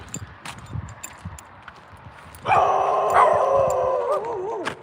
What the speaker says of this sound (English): It's 2 dogs on the loose.